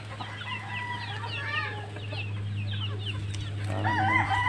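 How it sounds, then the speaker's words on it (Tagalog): Small chicks and gamefowl on a farm, with repeated high peeping and clucking calls over a steady low hum, a louder burst of cheeps near the end, no talk. "Ayan mga maliliit na manok."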